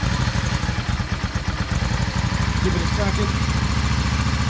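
A Yamaha Star 650 motorcycle engine runs with the choke fully on after a carburetor cleaning, a steady, loud, rough-throbbing idle close by while someone speaks briefly over it.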